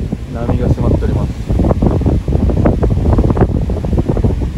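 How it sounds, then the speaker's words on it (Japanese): Typhoon-driven surf and strong wind on a beach on Tokunoshima, with waves surging far up the sand; loud, continuous roar of gusts buffeting the microphone and crashing water. "砂浜の奥まで波が迫っております。"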